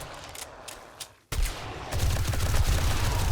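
Bursts of gunfire from a level 5 gun in the game 7 Days to Die with the Rebirth mod: a few scattered shots, then a rapid, loud, sustained volley.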